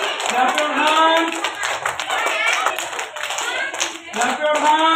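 A group of children in a classroom clapping their hands together, a dense continuous patter of claps close by, mixed with a sustained voice or chant running over it.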